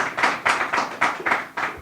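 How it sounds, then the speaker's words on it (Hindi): A small audience at an event honouring a guest claps in a slow, even rhythm, about six distinct beats in under two seconds, close and moderately loud with no talking. "तालियां थोड़ा दमदार तरीके से बजाएंगे"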